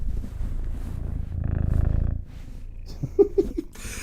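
A cat named Blackjack purrs right against a microphone, a steady, loud rumbling purr that swells and then fades, followed by a few faint rustles and handling noises.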